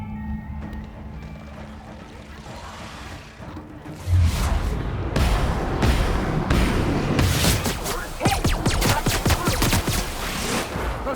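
Gunfire and explosions in The Outer Worlds, a sudden loud burst after a quieter stretch, then dense rapid shots and booms near the end, with voices over the combat.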